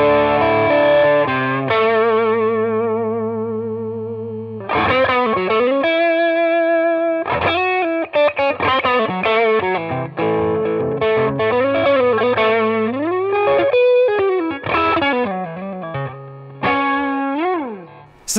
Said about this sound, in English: he's always got two Keeley Katanas on, one at the front to boost the signal going into the drive pedals